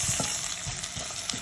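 Dried fish curry frying in a pan as chili powder and turmeric are stirred through, giving a steady close sizzle broken by soft scraping strokes of the spoon.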